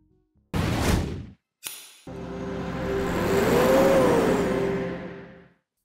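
Truck engine in Euro Truck Simulator 2, starting with two short bursts of noise, then a sustained engine drone that rises in pitch as it revs, holds, and then cuts off into silence.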